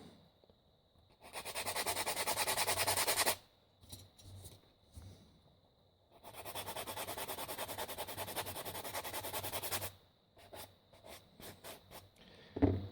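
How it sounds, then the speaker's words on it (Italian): Plastic model kit parts being cleaned at their sprue attachment points, two sustained bursts of close, dry scraping and rubbing separated by quieter gaps with a few short scratchy strokes. "Anche in questo caso provvediamo a eseguire una pulitura dei punti di attacco al telaietto."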